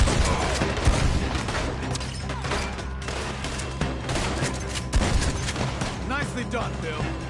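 Rapid gunfire in a Red Dead Redemption 2 shootout, a dense, loud barrage of overlapping shots that continues without letup alongside the game's sound bed.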